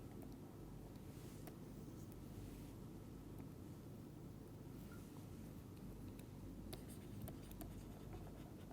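Handwriting on a board or paper during an entropy lecture, a steady scratching over a constant low background rumble, moderately faint and continuous with no speech.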